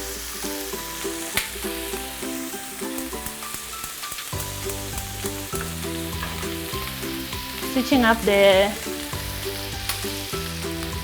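Chicken strips sizzle steadily as they fry in a pan, with a brief louder crackle near the end, while a voice speaks over them.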